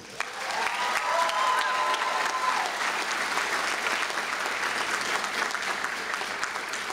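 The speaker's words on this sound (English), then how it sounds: "Students and guests, please give me another round of applause for the best faculty in the world." An audience at a 2014 curriculum graduation ceremony gives the faculty sustained applause that swells quickly and then holds steady. A faint whoop comes early, and no one speaks over the clapping.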